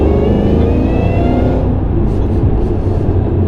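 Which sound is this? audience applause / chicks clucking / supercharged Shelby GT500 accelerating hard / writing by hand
supercharged Shelby GT500 accelerating hard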